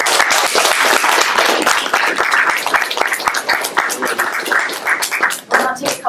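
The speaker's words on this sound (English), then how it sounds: "Let's give a round of applause for David." Loud, lively applause from the audience at a Berkeley Forum talk for David Roselle, with many crisp claps filling the room and faint voices mixed in, dipping briefly before a final burst.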